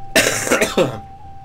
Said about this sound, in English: I'm sorry for clearing my throat so much